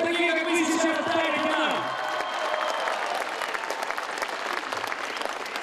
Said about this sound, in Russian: приятно слышать аплодисменты. Вот такие, как вы сейчас